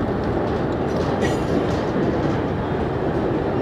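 A moving passenger train at Patliputra Junction makes a steady, close rumble of wheels and carriages that runs continuously, with a brief metallic squeal near the start and no talk.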